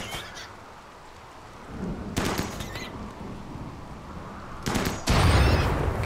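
Colonists firing guns in the game RimWorld, a few sharp shots and short bursts mixed with louder rumbling impacts toward the end, no talking.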